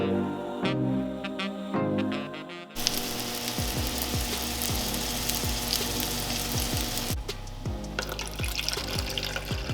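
Pancakes from Birch Benders mix and Beyond sausages sizzle steadily in a pan, a close, continuous frying hiss with clinks and scrapes of utensils and a brief quieter moment early on.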